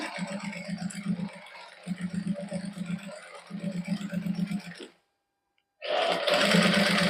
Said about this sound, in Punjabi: ਉਸੇ ਸਲਾਈ ਦੇ ਉੱਪਰ ਇੱਕ ਸਲਾਈ ਹੋਰ ਲਾ ਦਾਂਗੇ